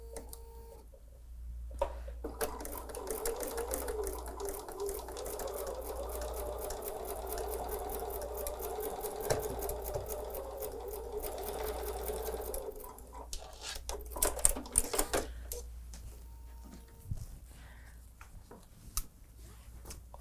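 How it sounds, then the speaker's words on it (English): A home sewing machine stitches a quarter-inch seam allowance through quilting fabric, running in a steady rapid whir for about ten seconds before slowing, stopping, and giving a few short bursts. "let's go sew a 1/4 inch seam allowance together"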